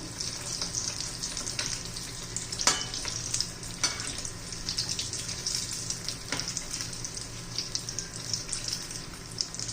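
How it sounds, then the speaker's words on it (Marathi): Vadas, spiced potato fritters for vada pav, sizzle steadily in hot oil with a constant close frying hiss and a few sharper crackles as they are turned, with no talking. "आता वडे मी तळून घेते उलटून घेते"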